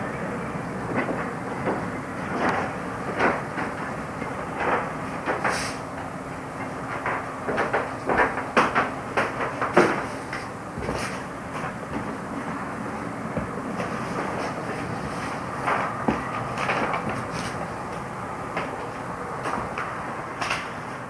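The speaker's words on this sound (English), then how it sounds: "This is Reception Siding Pilot Engine number 1. It was making a shunting move, travelling from number 3 siding line into the shunt spur" A railway pilot engine makes a shunting move from a siding line into a shunt spur, with repeated wheel clicks and clanks rolling past at a steady, moderate distance over a constant low rumble.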